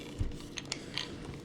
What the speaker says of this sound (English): that wasn't my dash cam breaking, that was the sound of it locking in place